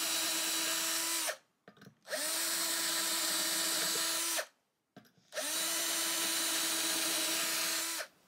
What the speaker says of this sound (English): we're going to drill the holes for the screws that hold the pin end jack while we're right here